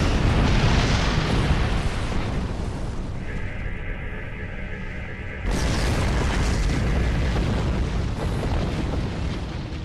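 Torpedo fired and detonating in a Star Trek video game, a heavy rumbling boom that rolls for several seconds, pauses briefly, then erupts again with a second loud blast and long roaring tail, no voices.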